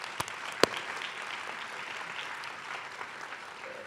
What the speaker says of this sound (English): So one more round of applause for everyone who's here with us.